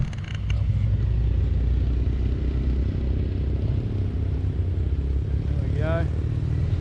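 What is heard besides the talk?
old Honda CBR and Triumph motorcycles engine running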